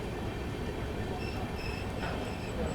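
The 20801 Islampur–New Delhi Magadh Express rolls into Tundla Junction at sunrise, a steady, loud rumble of wheels and carriages with faint high squeals over the continuous roar.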